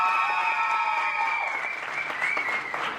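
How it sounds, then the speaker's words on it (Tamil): Applause from an audience at a Tamil pattimandram debate event, steady clapping heard over a held musical tone for about three seconds. "ஒரு பலத்த கைத்தட்டல்."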